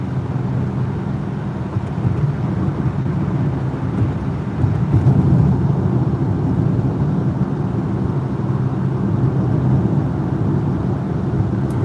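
Steady low rumble of road traffic moving near a bridge, a continuous broadband drone of tyres and engines heard from close by with no distinct passes standing out.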